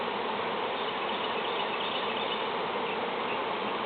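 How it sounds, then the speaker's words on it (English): A swarm of honey bees buzzing around a hive, a dense, steady, loud drone of countless wings with no pauses. "Now how in the world could that many bees come out of that little hive and it still be working?"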